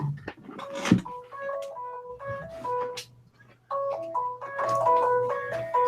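A cheap Android phone rings with a looping synthetic electronic melody, bright stepped tones repeating loudly and close, with a short pause before the tune starts again.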